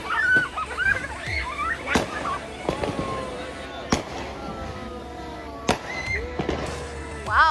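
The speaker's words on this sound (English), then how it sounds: "waiting for the fireworks" Fourth of July fireworks burst with sharp bangs spaced a second or two apart, whistling crackles and sizzles between them, heard at moderate distance.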